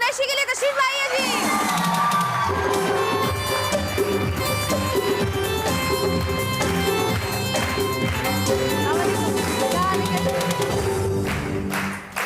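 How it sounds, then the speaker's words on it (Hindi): A studio audience claps and cheers loudly and continuously for a married couple being welcomed onto a television show, with music playing beneath the crowd. "तो बहुत सारी तालियां mister and Mrs Mohammad Salman Qureshi के लिए"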